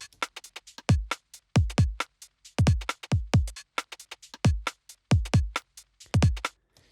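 A punchy electronic UK garage drum loop made in Ableton Live 10, with deep, slightly boomy kicks and crisp hi-hats in a skippy, shuffled rhythm, loud and dry.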